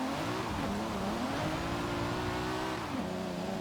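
A BMW engine in Forza Horizon 5 revs hard and steadily, its raspy, buzzing note rising and falling in pitch throughout, loud and close with no voices.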